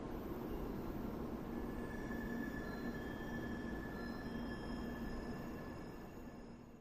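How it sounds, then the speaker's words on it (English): A Shinkansen Hikari 500 bullet train gathers speed after pulling out of Higashi Hiroshima Station, a steady loud rumble with high whine tones that holds throughout and eases slightly at the end, with no talking. "The Hikari 500 departed from Higashi Hiroshima Station."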